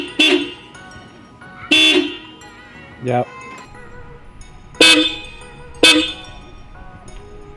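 Stock horns on a 2002–2004 Subaru WRX blare in five loud, short blasts separated by pauses, with voices talking quietly between them.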